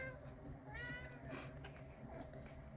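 A house cat gives a drawn-out, wavering meow up close, followed by a few shorter, fainter calls against a quiet indoor background.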